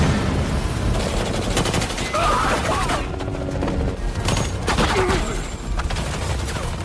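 Rapid gunfire in a film shootout with Tony Jaa, loud dense bursts and volleys layered over a thick, constant action soundtrack with no pauses.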